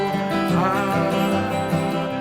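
Acoustic guitar strums the bluegrass tune "I'll Fly Away" with a busy boom-chicka pattern, alternating bass notes and chord strokes in a steady, close, bright rhythm with no voice.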